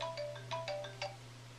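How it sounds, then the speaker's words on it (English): An iPhone ringtone chimes nearby, a short run of bright melodic tones over a low steady hum, with no talking. "And now my iPhone is ringing."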